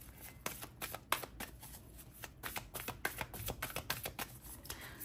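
Tarot cards are shuffled by hand, a quiet, close run of quick riffling taps and flicks repeating irregularly throughout, with no voices.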